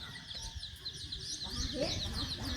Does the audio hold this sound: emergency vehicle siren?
no